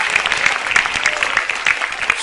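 Studio audience at a stand-up comedy show applauding, dense steady clapping from a large crowd, loud and close throughout.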